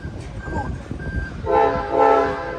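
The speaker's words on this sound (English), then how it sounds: "this is 716 San Joaquin bound train. Highballing out of here" Amtrak San Joaquin train 716, a doubleheader, sounds a loud sustained horn as it departs, rising out of a low rail rumble and a brief high tone.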